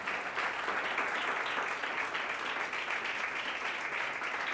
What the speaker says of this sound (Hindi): अपने लिए बजाओ ना तालियां।